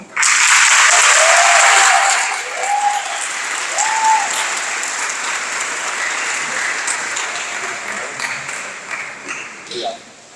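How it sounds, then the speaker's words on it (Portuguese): Audience applause at a herpetology congress in Porto Seguro, a loud, full burst of clapping that settles into steady sustained applause and trails off, with a few faint tones and voices underneath. "Uma salva de palmas, por favor."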